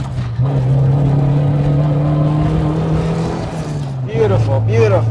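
A Toyota AE86 with a 4AGE engine on a mountain touge road holds a loud, steady engine drone close by, then drops in pitch as revs fall under braking and a downshift.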